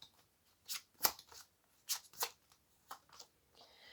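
Tarot cards drawn and shuffled from a deck, several short crisp papery flicks and slides spaced irregularly, close and quiet, with no talk.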